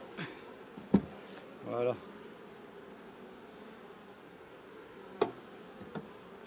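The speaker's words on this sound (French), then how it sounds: "Je secoue les abeilles" Honeybees shaken off a hive frame by a beekeeper, a soft buzzing hum at close range with a couple of sharp knocks from the frame, and a brief spoken word.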